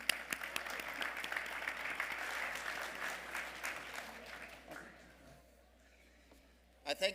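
Applause from guests at an annual vegetarian banquet as a provincial health minister is called to the stage, full clapping that gradually thins and fades to quiet, then a couple of louder knocks near the end.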